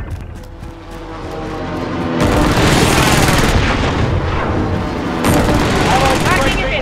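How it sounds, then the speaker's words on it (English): Video game airstrike: a long dense barrage of explosions and rapid gunfire-like blasts that swells into a continuous loud roar with a fresh burst near the end, alongside a voice speaking. "Allied precision airstrike incoming."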